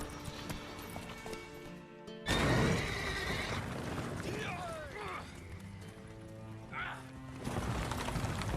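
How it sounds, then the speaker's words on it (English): Horses in The Witcher 3 whinny and neigh in a few shrill calls, with hooves clattering nearby, all over a steady backdrop of game music and ambience. "Calm the horses."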